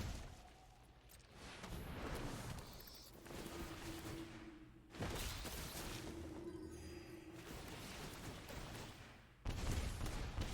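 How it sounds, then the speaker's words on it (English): Fireworks effect from the MTG Arena card game, a dense, loud crackling barrage of popping bursts and booms that continues in waves, with sudden surges and a faint tonal hum partway through. "Fireworks."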